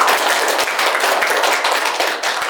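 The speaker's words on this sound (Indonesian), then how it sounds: "Berikan aplaus dulu buat teman-teman." Classmates applaud in a university classroom lecture, dense, steady clapping from a group held at even loudness for the whole stretch.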